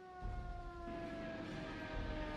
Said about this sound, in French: Les sirènes retentissent dans la ville de Dresde, indiquant un raid aérien imminent.